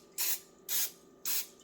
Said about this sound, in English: spray out whatever you're putting the honey in with olive oil or Pam or whatever